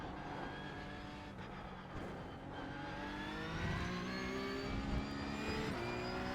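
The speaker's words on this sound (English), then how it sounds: "Braking hard into the right turn" Porsche 911 Cup (992.2) race car at Suzuka braking hard into a right turn, the engine note dropping through downshifts and then rising again as it accelerates out, loud and close.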